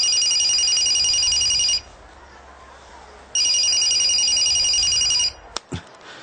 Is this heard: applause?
no